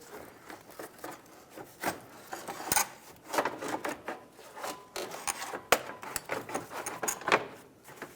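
A radiator fan assembly is worked up into place in a 2012-2020 Ford Focus, giving close, uneven rubbing, scraping and hollow plastic knocks with sharp clicks scattered throughout, and no talking.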